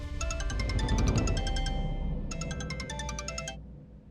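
Phone ringtone sounding from a repeated incoming call, a bright repeating melodic tone in two bursts with a short gap, moderately loud over a low background hum.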